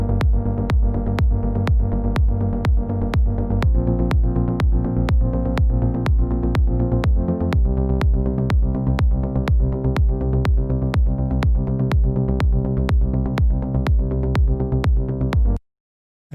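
Rolling synth bass line in the style of a particular track, layered bass and chords, pulsing in a steady fast rhythm with regular plucked attacks, loud and continuous, stopping abruptly near the end.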